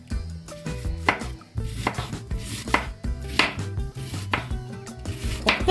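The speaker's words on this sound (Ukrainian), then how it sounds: "тепер буду різати цибулю. Цибулю поріжемо не дуже крупно" A knife chops an onion thinly on a cutting board, crisp repeated strokes in an uneven rhythm, with faint background music underneath.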